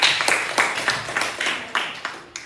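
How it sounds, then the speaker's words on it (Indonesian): Scattered classroom clapping after a student speaker in a school debate lesson, several sharp irregular claps from a small group, fairly close and dying away over a couple of seconds. "tepuk tangan untuk Firas dari kelompok kontra"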